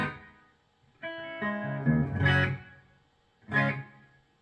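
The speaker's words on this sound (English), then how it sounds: "Just listen to this reverb." Notes played through the reverb effect of an ART DST830 effects unit ring out in a few bursts, each swelling and trailing into a spacious, lingering wash that dies away between phrases, fairly quiet overall.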